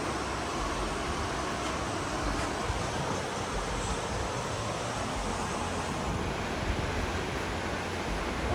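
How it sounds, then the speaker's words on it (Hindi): Fast, clear river water flowing right beside a roadside food stall, a continuous broad rushing wash at moderate level with no voices. "इसकी खासियत ये है कि इसके बिल्कुल बगल से नदी भी गुजर रही है"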